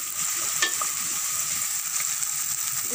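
Food sizzles steadily in a pan while it is stirred and mixed, with soft scraping and shuffling strokes over a constant hiss, close and moderately loud, with no voices.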